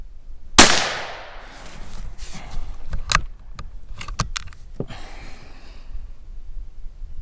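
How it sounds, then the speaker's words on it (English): .17 HMR rifle fired once at a distant steel target, a single sharp loud crack followed by a decaying ring, then scattered light metallic clinks and handling noises. "I am gonna fire this one that had the partially split neck. We'll just fire it at the steel down there."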